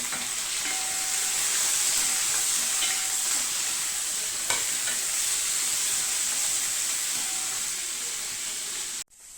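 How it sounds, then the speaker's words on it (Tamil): Brinjal and drumstick pieces sautéing in a pan for a spicy tamarind curry, a steady close sizzle and hiss running throughout with a faint stir or tap midway before ending abruptly. "கத்திரிக்காய் முருங்காயும் போட்டு நல்லா வதக்கிடலாம்"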